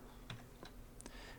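Several soft, scattered keystrokes on a computer keyboard, quiet and close, with no talking.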